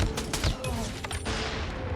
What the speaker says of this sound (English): This is me using the VMP SMG to take out a target from across the map.